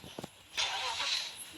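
Ambulance engine starting in the Rope Hero video game: a couple of short low thumps, then a bright, steady engine roar that carries on to the end, fairly quiet overall.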